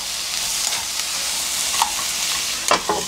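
Onions fry with a loud constant sizzle in a pan over high heat, broken by a few scraping stir strokes and clacks toward the end, close up with no talking.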